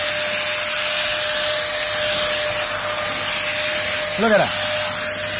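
Vonhaus vacuum cleaner running, a loud, steady close-up whine and rushing airflow that holds throughout, with a brief spoken comment near the end.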